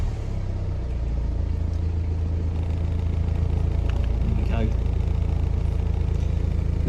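BMW 3 Series E91 Touring engine running at a steady idle, a constant low rumble heard close up throughout, with some faint higher clicks partway through.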